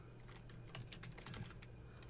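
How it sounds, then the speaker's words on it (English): Typing on a computer keyboard while writing HTML code, a quick run of soft, close key clicks in an irregular rhythm, heard alone without talk. "I'm going to type"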